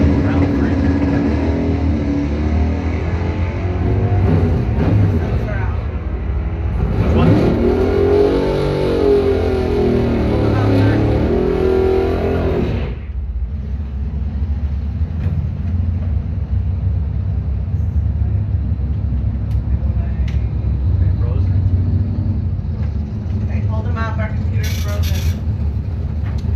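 A Buick drag racing car launches from a handicap start at a bracket event, its engine roaring loud and close for about thirteen seconds, sweeping up through gears before cutting off, leaving distant engine rumble and crowd noise.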